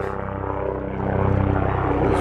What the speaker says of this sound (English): this black helicopter making noise